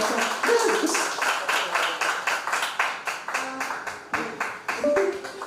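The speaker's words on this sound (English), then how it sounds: "Give her a big round of applause to the amazing owner." Audience applause at a candidate forum for a community business owner, a sustained round of brisk clapping from a room full of people lasting several seconds, with no talking over it.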